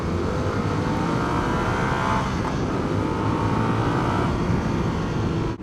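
Yamaha FZ07 motorcycle engine running with its airbox snorkel removed, a loud, steady close-up drone with a faint rise in pitch partway through, no talk.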